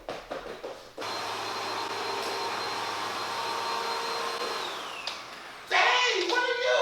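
A household vacuum cleaner runs loud and steady with a whining motor, cuts out abruptly near the end, and then a brief rustling burst follows. Someone talks briefly just before it starts.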